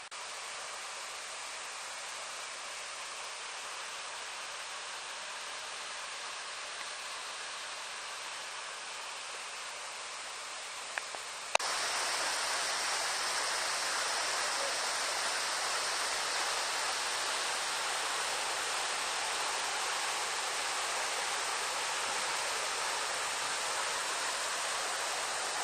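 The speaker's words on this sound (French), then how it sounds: "On a réussi à trouver des accès pour aller juste en bas de la cascade." Waterfall at the foot of the Cuscardier cascade heard up close, a steady dense hiss of falling water that grows louder partway through and carries on unbroken, with no voices.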